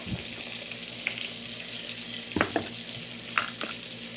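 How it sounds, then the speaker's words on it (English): Butter sizzling in a frying pan while cooking pork chops, a steady broadband hiss running throughout with a few sharp clinks and taps from a utensil against the pan. "And now I'm going to put a little bit of this butter in here."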